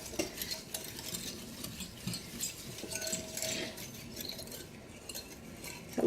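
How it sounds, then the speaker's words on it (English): A whisk stirs soy sauce and ketchup into brown sugar in a bowl, giving quick, irregular scraping and clinking taps close by, with no talking. "I'll just use a whisk to kind of blend it up."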